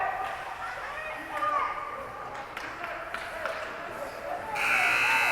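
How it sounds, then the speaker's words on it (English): A loud, sustained ice hockey line change buzzer blares near the end, over crowd noise and distant shouting in a big rink. "Line change buzzer sounds."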